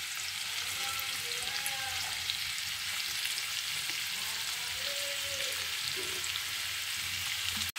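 Chopped onions fry in a pan for a rice khichuri, a steady close sizzle and crackle running continuously, with faint tonal background sounds and no talk.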